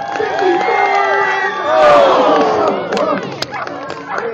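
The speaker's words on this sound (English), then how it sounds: "The crowd is going wild because she needs your help" A crowd at a high jump event roars and shouts loudly, swelling to a peak midway, with whoops, cheers and a few voices breaking through near the end.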